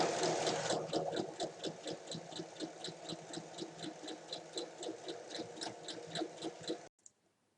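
Sewing machine stitching along a traced line on a handmade bag, a steady rapid rhythmic whir with regular needle clicks for about seven seconds before stopping abruptly.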